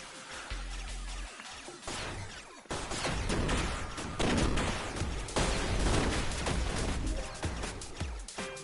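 A weapon firing mines in the video game Blastful, with a dense, loud barrage of rapid blasts and crashes that runs almost continuously after a short opening burst.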